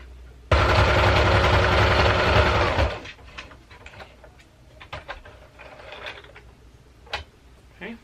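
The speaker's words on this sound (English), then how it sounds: "So I'm going to sew across the short one and then I'm going to go all the way down." A sewing machine stitches fabric for a nursing cover in one loud, close, continuous whirring run of about two and a half seconds, then stops, followed by quiet clicks and fabric handling.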